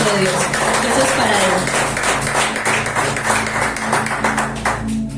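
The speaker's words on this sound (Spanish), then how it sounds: "Dale un fuerte aplauso a nuestro Dios." A church congregation gives a loud, sustained round of applause during a Spanish-language service, with rapid overlapping claps and voices talking over it.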